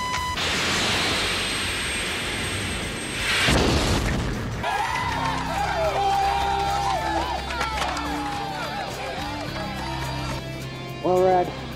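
Video game battle: a heavy explosion booms and rumbles as an enemy is destroyed, followed by scattered debris crackles and sharp bursts over a busy sound effects mix, with talk running alongside.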